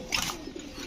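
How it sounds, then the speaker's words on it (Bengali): A male Chinese Rampuri pigeon gives a brief, soft coo, close by, with no talking over it. "চীনা রামপুরি একটা নর কবুতর,"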